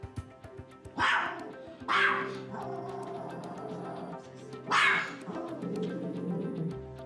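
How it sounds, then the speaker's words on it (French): A small chihuahua barks in three sharp, high-pitched, nervous yaps spread across the clip, close and loud over a low background hum. "Ce petit aboiement aigu est une marque de grande nervosité."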